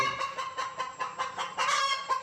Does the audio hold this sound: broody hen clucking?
yes